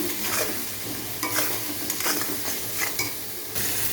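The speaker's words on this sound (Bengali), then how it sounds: "কড়াইতে কালো জিরে শুকনো লঙ্কা ফোড়ন দিয়ে আলুটা দিয়ে দিয়েছি ভাজা ভাজা হোক" Potatoes fry in a kadai with black cumin and dried chillies, a continuous close sizzle broken by repeated scraping stirs.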